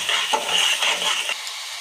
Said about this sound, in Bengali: এবার গুলিয়ে রাখা মশলাটা দিয়ে দেব, দিয়ে কিছুক্ষণ কষাবো